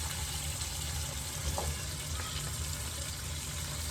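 Pork chops fry in a pan for creamy garlic pork chops, giving a steady close sizzle and crackle with no voices.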